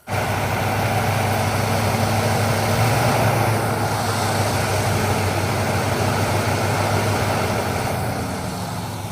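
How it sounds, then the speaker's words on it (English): A carbureted engine with a vacuum leak idles steadily during a leak test, with a low, rumbling drone that stays constant throughout, with no voices present. "when we hear the tone of the engine change, then that's going to tell us where the leak is"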